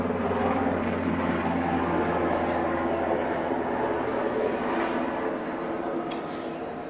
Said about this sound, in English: I don't know if you can hear that helicopter.